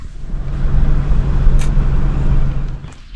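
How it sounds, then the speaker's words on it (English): A car driving slowly into Tsali Campground, with steady close engine drone and tire rumble throughout and no talk. "we'll get in the car and drive on in"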